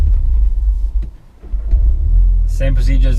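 VW Golf R held on launch control with the gas floored: a loud, deep engine rumble close by from inside the car, dipping briefly before building again, with a voice speaking over the end.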